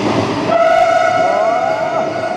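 A Vande Bharat train passes close by, sounding a loud, sustained two-tone horn over a steady rumble of rolling wheels.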